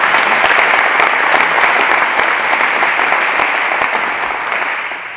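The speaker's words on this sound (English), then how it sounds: "We give them a round of applause for us." Applause for new school staff members at a quarterly image award ceremony, a full room clapping steadily and loudly, then slowly tapering toward the end.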